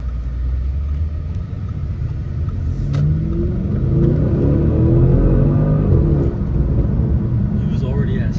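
A 555 hp Audi S6 with all-wheel drive accelerates hard, its engine rumbling and rising in pitch from inside the cabin while people talk over it.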